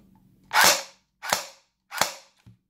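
A CYMA Colt CM.128 airsoft electric pistol fires three sharp, close semi-auto shots, evenly spaced about two-thirds of a second apart, with a faint mechanical click after the last.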